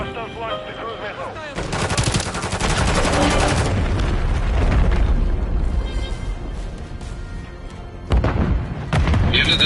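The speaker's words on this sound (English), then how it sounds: "Hostiles launched the cruise missile." A cruise missile strike in Call of Duty Modern Warfare during a deathmatch: a loud, sustained roaring blast of explosions and rattling gunfire that rumbles for several seconds, then fades briefly before another sharp burst.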